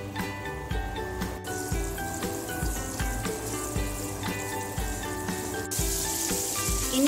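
Steady soft sizzling and crackling of margarine melting in a hot pan, with occasional light clinks of a utensil against the metal.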